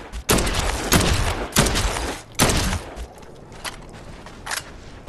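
Bursts of gunfire in the zombie video game Dead Island 2, several loud separate volleys spaced irregularly, then fainter, sparser shots trailing off, with no talking.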